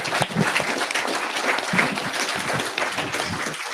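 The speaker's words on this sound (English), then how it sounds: "If we could give our panelists one more round of applause." An audience at a session on collaborating with California tribes applauds its panelists, a fairly close, steady patter of many hands clapping with no voices over it.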